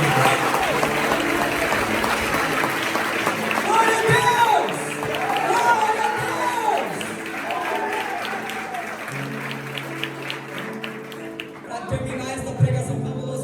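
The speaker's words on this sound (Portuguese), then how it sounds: "dá uma poderosa salva de palmas" Church congregation applauding in a sustained burst of clapping, loud and steady, with a preacher's amplified voice speaking over it and cheers rising at times.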